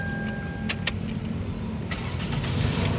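The engine of a 2007 Toyota Camry 2.4 G automatic catches and settles into a steady idle, close by, after a few sharp clicks and key jingles at the start.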